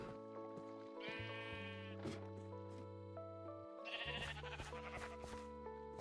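Sheep on a Minecraft wool farm bleat repeatedly in the video game, several overlapping bleats over a steady layered game background, moderately quiet with no clear talking.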